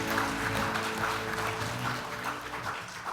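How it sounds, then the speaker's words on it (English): Audience applause for youth award nominees at a national youth awards ceremony in Fiji, sustained steady clapping from a large crowd filling the whole stretch at an even level. "another warm round of applause for your nominees."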